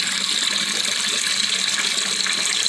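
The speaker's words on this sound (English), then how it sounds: "turn on the valve, water flows back into the tank, and hopefully it stops where that mark is" Water gushes steadily into a toilet tank after the supply valve is opened, a continuous, fairly loud hiss and splash of refilling from close by, with no talking.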